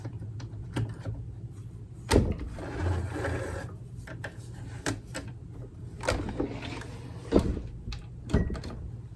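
A sewing machine runs short back-and-forth bursts to backstitch the end of a French seam, whirring close and fairly quiet with small clicks and pauses between runs.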